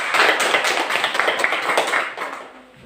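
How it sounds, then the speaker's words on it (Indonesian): Classroom applause for a student, a burst of many hands clapping close by that fades out toward the end. "Tepuk tangan dulu untuk Febrin Coleta Valona."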